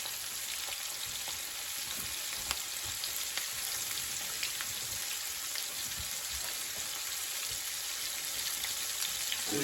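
Battered pieces frying in hot oil, a thick batter crackling steadily with a dense, even sizzle and scattered pops throughout, close and continuous with no talking.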